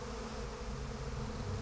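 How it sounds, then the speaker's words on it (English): Steady, close buzzing of a swarm of bees in the video game Psychonauts 2, a dense insect drone that never lets up and has no talking over it. "Want me to kill those bees?"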